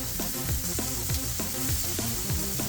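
Food fries in hot oil with a constant loud sizzle and crackle, and a rhythmic scraping or stirring sound repeats roughly every half second.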